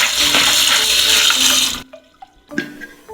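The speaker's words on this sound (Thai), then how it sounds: "กรองน้ำ ล้างหัวให้สะอาด" A loud rush of running water pours for nearly two seconds as soaked beans are drained and rinsed, then cuts off, leaving faint clinks and handling noises.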